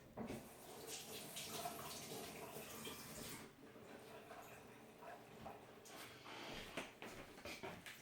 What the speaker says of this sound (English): Quick wash my hands.